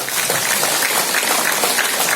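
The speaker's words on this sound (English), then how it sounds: "And start clapping." A group of people clapping their hands together in a steady, dense patter that stays at an even level throughout, with no voices over it.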